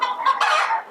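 Shika Brown chickens clucking at a Nigerian poultry farm, a close, loud burst of several quick clucks and squawks running together for about a second.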